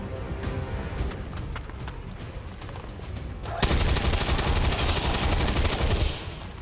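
Gunfire in XCOM 2, a crackle of shots that swells into a loud, sustained burst of rapid automatic fire before easing off at the end.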